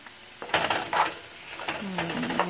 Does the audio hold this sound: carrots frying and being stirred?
yes